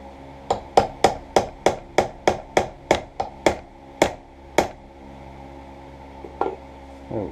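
A hammer strikes a part of an Air Force pilot survival knife with about a dozen sharp, evenly spaced metallic taps, close and loud, then a pause and a final lighter tap.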